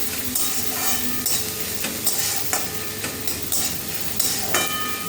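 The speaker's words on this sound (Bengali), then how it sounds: "আগে পেঁয়াজ আর লঙ্কা রসুনটা ভাজা হয়ে যায়" Onion, chili and garlic frying in a pan as water spinach is prepared, a steady sizzle broken by repeated scraping stirs of a spatula.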